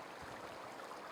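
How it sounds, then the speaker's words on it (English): A river flowing in the VR survival game Frost Survival VR, a soft, continuous rushing murmur of water, quiet and even, with no voices. "Sounds from the river is really nice."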